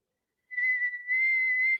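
A person whistles a steady high pitched tone imitating microphone feedback, holding one note with a brief dip in the middle, close and clear with no talking.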